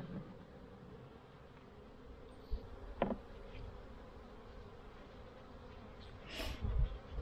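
Honeybees buzzing around a hive in spring, a faint steady hum under low background noise, with a few brief louder passes of bees flying close by.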